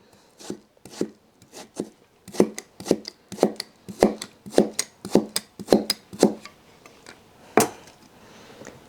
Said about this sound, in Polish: przełożenie ziemniaka na drugą stronę i później krojenie go pod ukosem